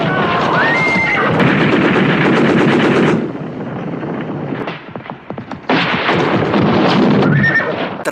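A horse whinnies amid heavy gunfire in a war film battle scene, with loud bursts of shots and neighing in the first three seconds, a quieter patch of scattered sounds, then renewed gunfire and another whinny.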